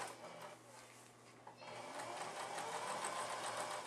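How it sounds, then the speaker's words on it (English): A sewing machine stitches a half-inch seam around the top edge of a homemade Christmas stocking, producing a steady, close mechanical whirr that runs continuously and grows a little fuller after a brief pause. "So I'm going to stitch around the top edge with a half inch seam"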